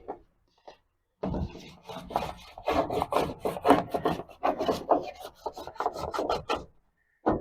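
Tape is rubbed down by hand on the roof frame of a 1960 Chevy Biscayne, making close, brisk rasping strokes in a steady back-and-forth rhythm after a short pause.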